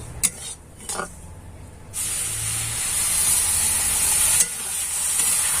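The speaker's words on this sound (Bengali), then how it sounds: "সুজির মধ্যে দিয়ে দেব জল" Water is poured into roasted semolina in a hot pan, first with a few quiet clinks, then a sudden loud hiss and steady sizzle that keeps going as it is stirred.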